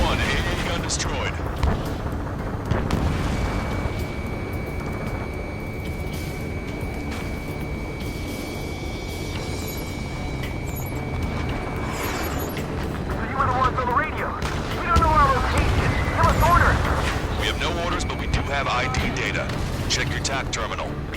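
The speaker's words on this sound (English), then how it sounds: "Strider 1, AA gun destroyed." Combat explosions and booming artillery as an AA gun is destroyed in Ace Combat 7, rumbling continuously under radio chatter and jet noise, with heavier blasts swelling near the end.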